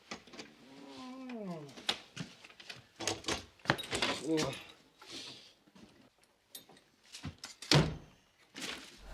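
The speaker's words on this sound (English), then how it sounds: "opened the certain apartment door with his own key" Keys jangle and a key clicks in an apartment door lock in a Soviet comedy film, followed by thunks of the door opening, with voices talking intermittently around the sounds.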